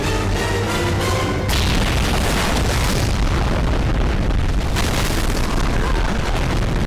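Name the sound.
explosion in the film Rambo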